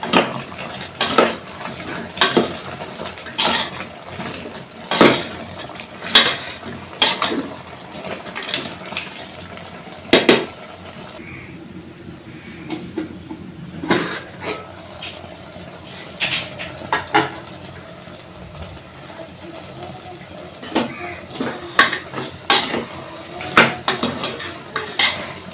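Masala is mixed into a pot of goat head curry, with loud irregular clanks and scrapes of a metal spoon against the pot and a faint wet sizzle between strokes, close-up.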